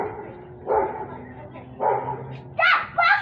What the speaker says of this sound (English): He's barking at somebody.